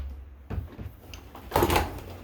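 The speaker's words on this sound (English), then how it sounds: "Alright, let's close this up. Anyway, this is a fold down door." A fold-down cargo door on a storage compartment swings shut with a solid thump, followed shortly by a second louder clatter as it latches, close and clear.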